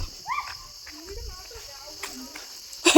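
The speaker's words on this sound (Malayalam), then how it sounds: "നല്ല ചീവീടിൻ്റെ സൗണ്ട് അല്ലേ" Crickets chirp in a forest at Ponmudi, a thin, steady insect buzz held faintly throughout, with scattered bird-like calls and a sharp noise at the end.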